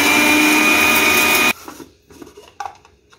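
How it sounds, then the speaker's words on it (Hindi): A loud electric mixer grinds whole spices at high speed for about a second and a half, then cuts off, leaving quiet clattering and shuffling. "अभी मैं इसको पीसती हूँ मिक्सी में"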